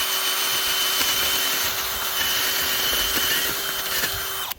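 A powered garden auger drills into hard, poor soil for planting bulbs, a loud continuous whining motor drone with a steady high tone and faint grinding, close by, stopping abruptly at the end.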